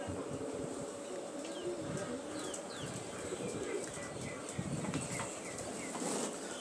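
Pigeons bathing in water set out for them on a pigeon farm in Assam, cooing softly under a steady rustle of splashing and wings, with scattered high bird chirps throughout.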